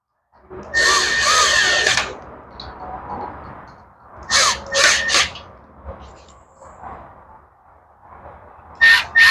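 A power drill runs in loud bursts as it tightens bolts on a minibike built from a Barbie Dream scooter, one long whir followed by several shorter pulses and a final brief burst.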